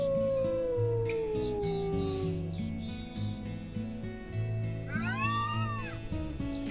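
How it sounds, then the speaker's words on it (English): Several wolves in the WolfQuest game howl together as a pack, long overlapping wails rising and falling at different pitches over a steady musical backdrop, one howl swooping up and down near the end. "And so she's encouraging them to howl with her."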